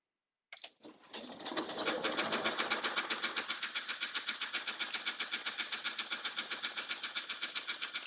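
A sewing machine stitches knit fabric for a bodysuit: a click, then a fast, steady run of rhythmic mechanical pulses, close and continuous to the end.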